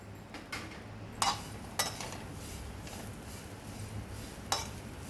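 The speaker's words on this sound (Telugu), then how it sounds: "రొయ్య పొట్టు వేపించుకోవాలి" Prawn shells roasting in a dry pan, a low steady rustle broken by a few sharp metallic scrapes and clinks of stirring, close and fairly quiet, with no talk.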